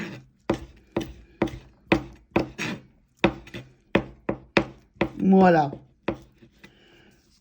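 A knife chops chives on a wooden board in steady, crisp knocks, about a dozen close strikes in an irregular rhythm, with a brief spoken word near the end.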